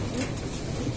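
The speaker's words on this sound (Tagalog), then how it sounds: "Ayan yung ibon mo." Pigeons cooing in a brief burst of soft, low throaty coos, close by, with faint voices in the background.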